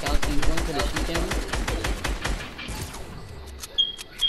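Rapid gunfire in a PS4 shooter rattles off in a fast, evenly spaced burst for over two seconds, then fades into scattered game effects and a few sharp clicks, with a voice talking over it.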